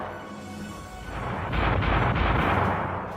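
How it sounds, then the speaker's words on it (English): Royal Navy weapons firing during tests, a heavy booming burst of gunfire that swells midway and rolls on as a dense, loud rumble for a few seconds, with no voices. "Royal Navy firing tests."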